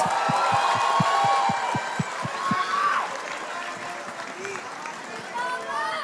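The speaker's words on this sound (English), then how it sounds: "let's give Falcons APBren a big round of applause" An esports arena crowd at the MPL PH Season 14 playoffs applauds a team, with a dense roar of clapping and cheering over a run of rhythmic heavy thumps that then thins out.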